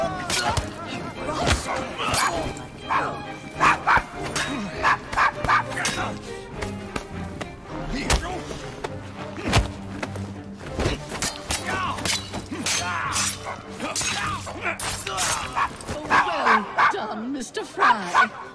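A dog in Assassin's Creed Syndicate barks and yips repeatedly amid a busy Victorian London street, with background music and a voice speaking over the commotion.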